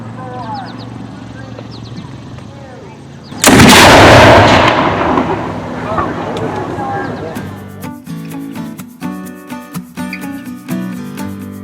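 A cannon fired on the hour at a gunmakers fair booms once, loud and sudden, then trails off into a long rumbling echo. Horse hooves clop and talk can be heard around it.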